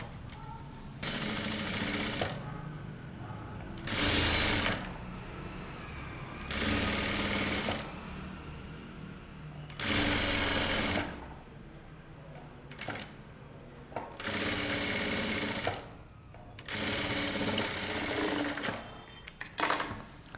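A sewing machine stitches the slit edge of a kurta with piping, running in loud steady bursts of about two seconds separated by short quiet pauses, with no talking.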